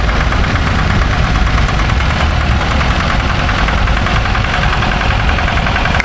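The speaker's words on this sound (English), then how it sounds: "So this is an ex-naval Wrigley drop-side truck rebuilt by the owner, Mr. Hayes." An owner-rebuilt ex-naval Wrigley drop-side truck idles at the Great Dorset Steam Fair, its engine a loud, steady, close rumble that runs unbroken with no voices.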